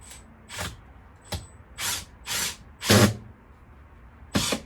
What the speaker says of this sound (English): And then I can drill through.